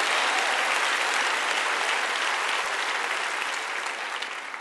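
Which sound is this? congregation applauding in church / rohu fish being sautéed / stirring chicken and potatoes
congregation applauding in church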